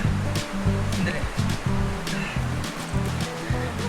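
Cold mountain stream water rushes steadily toward a cave in Sagada, a continuous loud wash of flowing water with low rhythmic bursts layered through it.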